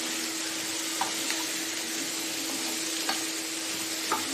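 Shredded cabbage fries in a pan over a high flame, giving off a steady, loud broadband sizzle throughout, with a few faint stirring clinks scattered through it.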